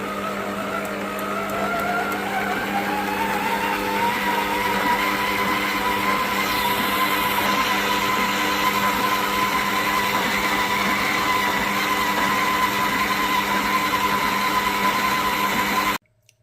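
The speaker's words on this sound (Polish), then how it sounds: "Mieszam około 6 minut do wyrobienia ciasta." A stand mixer kneads ciabatta dough for several minutes, its motor giving a steady, loud whine with a slight rise in pitch early on, running continuously without pause until it cuts off at the end.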